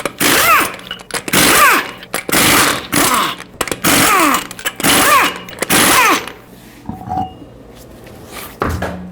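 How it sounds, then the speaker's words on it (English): Impact wrench running off the six lug nuts on a front wheel of a 2015-2020 Ford F-150 with a 21mm socket: a series of loud, close, rattling bursts about a second each, separated by short pauses, before the tool falls quiet. "use a 21mm socket, remove all 6 lug nuts, and then remove the wheel"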